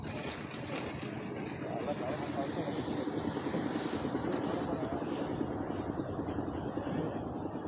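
A machine working a basement floor before a plain concrete pour gives off a steady, loud, continuous thudding drone that carries on throughout, with voices audible beneath it.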